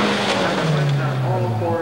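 A stunt car pulls away at an exhibition of Hollywood stunt work, with engine drone and a sustained tire squeal as it drives off, close and loud, beneath a commentator's voice.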